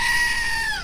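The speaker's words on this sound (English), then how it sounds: "Oh, grab the goat." A goat bleats in one sustained, wavering, high-pitched cry lasting nearly a second, loud and close, with no talk over it.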